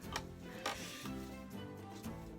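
A shaft on a handweaving loom is pulled up, producing faint, quiet clicking and ratcheting mechanical sounds with a few soft knocks, close by in a calm room.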